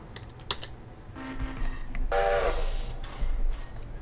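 A train in the Railroader video game sounds a brief horn-like tone over a low rolling rumble, with keyboard typing clicking throughout.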